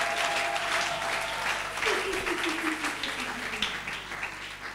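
A church congregation applauds in a dense, continuous wave of clapping with scattered voices, filling the room loudly for a few seconds.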